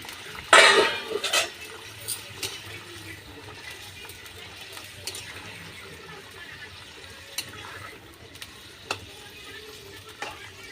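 Fried lentil dumplings (bori) and fish go into a pan where potatoes have been simmering, giving a loud splash and clatter at the start, then a steady quiet sizzle and bubbling with occasional scrapes and clinks.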